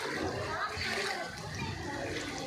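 Seawater surges inland onto the shore during a cyclone, a steady broadband wash of rushing, splashing water with no letup, loud and close throughout.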